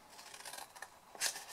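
A few quick scissor snips through card, quiet and close, ending in a sharper cut.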